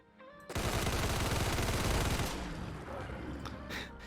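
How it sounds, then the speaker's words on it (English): Sustained full-auto burst from an antique Borchardt C-93 pistol with a drum magazine in Fallout 4, a dense, loud rapid stream of shots lasting about two seconds before tailing into a lower rumble and game effects. "With our drum mag, let's see how quick we put down this Deathclaw."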